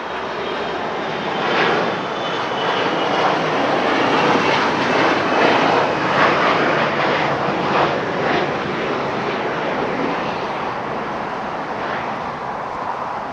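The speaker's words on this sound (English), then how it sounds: "So that United plane we talked about, which is going to Newark, still sitting at the end of the runway here." A United airliner bound for Newark idles at the end of the runway on the south side of Los Angeles International Airport, its jet engines giving a loud, steady, broadband roar that holds without a break and with no talking.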